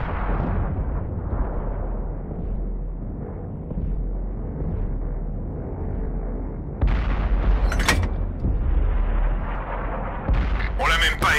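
Deep booming cannon blasts from an AMX 105 mle. 47 tank in World of Tanks on PS4, heavy low rumble with sharp bursts near the end, under a steady engine drone.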